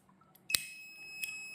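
A gas leak detector in a school project setup gives a sharp electronic beep followed by a lingering high tone, with a second shorter beep about a second later, close and fairly loud.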